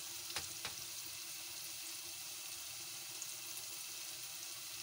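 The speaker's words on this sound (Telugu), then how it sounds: "ఉల్లిపాయలు బాగా వేగిపోయినాయి. మసాలా వేసిన ఉల్లిపాయలు." Onions with masala fry quietly in a pan, giving a faint, steady sizzle with a couple of soft clicks near the start.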